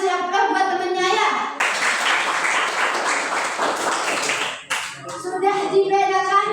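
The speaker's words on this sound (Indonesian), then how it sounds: "jawaban yang benar kasih aplaus buat temennya ya." Children in a classroom clap together for a classmate's correct answer, a dense burst of applause lasting about three seconds, with someone talking before and after.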